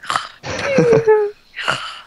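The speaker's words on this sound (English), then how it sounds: "Sounds like someone is snoring." Comical snoring with a raspy inhale and a long whistling, wheezy tone, repeated in short bursts with brief pauses between.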